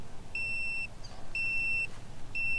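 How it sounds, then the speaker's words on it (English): Three steady high-pitched electronic beeps from a STACYC 16eDRIVE brushless electric balance bike sound at an even pace, each about half a second long, over a low background hum. "and it'll beep 5 times"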